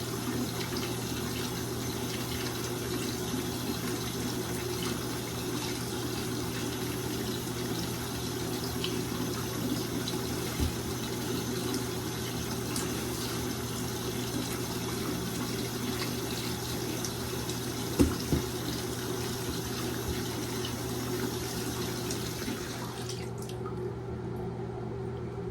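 Water streams steadily into a basin for a dyeing bath, a continuous even gush of filling liquid lasting over twenty seconds, then abruptly cut off near the end.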